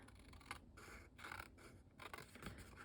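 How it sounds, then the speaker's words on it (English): Scissors trim off excess material in a few quiet, close snips and scrapes, faint and alone. "I'm going to pull in my scissors and I'm going to trim this extra off"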